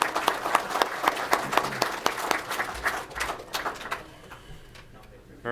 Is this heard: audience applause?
yes